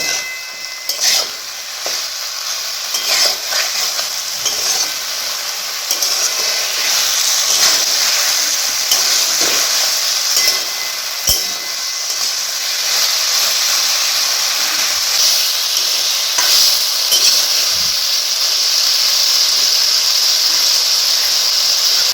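Ridge gourd and potatoes frying in a pan for a poppy-seed curry, with a steady bright sizzle and hiss throughout and occasional soft scrapes of stirring, no voices.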